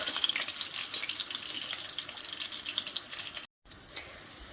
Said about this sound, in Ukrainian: Смажаться вони дуже і дуже швидко